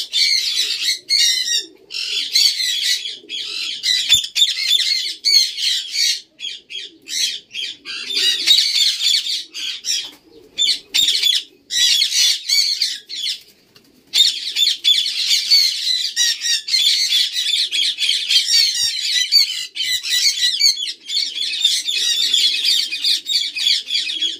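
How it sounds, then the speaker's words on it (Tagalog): Loud, continuous squawking and chirping from a large flock of birds and pigeons in a loft, crowded and close, with only a few short pauses. "may ibon, may kalapati."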